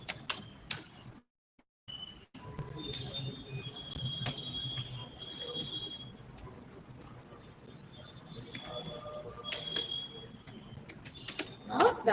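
Keys clatter on a computer keyboard while a command is typed during Linux shell scripting, a series of light, scattered clicks over a steady low room hum, with a few sharper keystrokes near the end.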